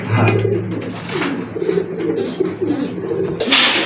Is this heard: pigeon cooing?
yes